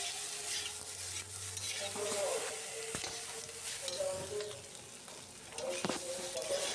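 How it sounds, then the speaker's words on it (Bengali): Potatoes frying and sizzling in a pan for a vegetarian aloo dum, with steady sizzle and repeated scraping stirs throughout, close and fairly loud. "তারপরে এগুলো ভালো করে ফ্রাই করতে হবে।"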